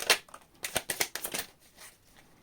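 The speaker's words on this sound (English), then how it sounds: "Last shuffle." A deck of tarot cards is shuffled close up, giving a quick burst of crisp riffling flutters and soft slaps over about a second and a half before trailing off, with no talking.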